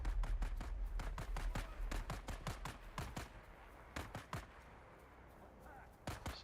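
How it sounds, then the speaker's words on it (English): Repeated gunshots from Dune: Awakening combat, sharp cracks in irregular bursts and single shots fired from a distance at the player, steady game ambience underneath. "Where are they shooting me from?"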